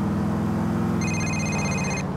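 A mobile phone rings in GTA IV as Roman calls, a bright electronic ringtone cutting in halfway through over a constant low engine-like hum.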